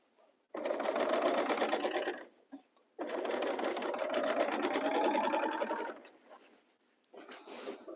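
Sewing machine stitching the pockets of a romper together, two long steady runs of rapid stitching about two seconds each separated by a short pause, with a brief third burst at the end, close and clear with no talking.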